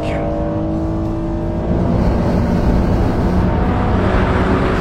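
A Honda NSX engine revs hard as VTEC engages around 4000 rpm, a loud continuous rising engine note with a slight surge in intensity partway through, heard from inside the car.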